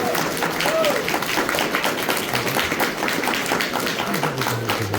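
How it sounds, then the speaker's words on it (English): Crowd applause at a pony fan convention, dense steady clapping from a large audience filling the space throughout, with voices mixed in underneath. "another round of applause for everyone involved with that game"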